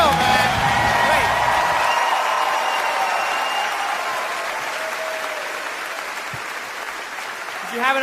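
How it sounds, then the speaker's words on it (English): Loud audience applause and cheering after a Bill Burr stand-up comedy set, a dense roar of clapping with whoops that gradually fades, while music plays faintly underneath and a final burst rises at the end. "a round of applause for Bill, man."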